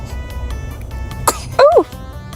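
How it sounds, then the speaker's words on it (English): A newborn baby's single small sneeze, a brief sharp burst followed by a short higher squeak, close by over low background noise, with a soft adult voice nearby. "Oh goodness, were you about to sneeze?"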